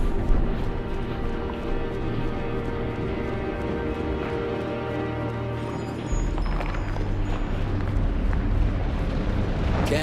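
Fiery flare-ups roar inside a dwarven deep well in Dungeon Siege III, a steady dense rumble with crackling bursts that surges louder partway through, no voices.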